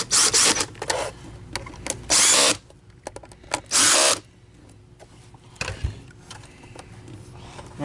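Power screwdriver bursts while removing Phillips and Torx 20 screws from an Oreck Elevate Conquer UK30300 vacuum cleaner during repair: several short loud whirring runs separated by quieter handling and scraping, with no talk.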